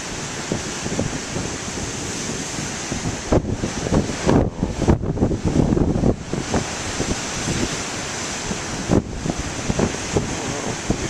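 Big ocean waves surging onshore under strong wind, a continuous roaring wash with heavier crashing bursts in the middle and wind buffeting the microphone throughout.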